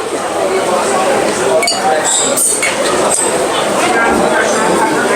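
Glasses of champagne cocktail clink together in a toast at a Key West restaurant, a few bright chimes amid steady loud background chatter and room noise.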